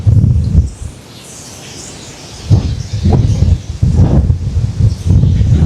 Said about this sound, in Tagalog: Lakas ng hampas ng hangin talaga.